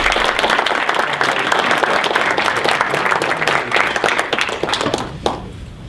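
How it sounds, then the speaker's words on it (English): Audience applause at a school board meeting, a brisk close round of many hands clapping that continues steadily and then tapers off abruptly at the end. "And if we can give them a round of applause."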